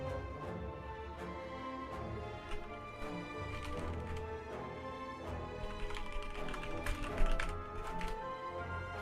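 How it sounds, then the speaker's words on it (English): Someone types on a computer keyboard, with a brisk, irregular run of sharp key clicks that grow busier and louder toward the end over quiet background noise, no speech. "Just typing."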